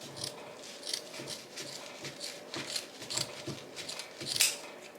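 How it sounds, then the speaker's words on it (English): Scissors snip away excess material while a Dollar Tree fall wagon-wheel wreath is assembled, giving a run of close, crisp cuts in an uneven rhythm. "I'm going to cut some of this excess off here"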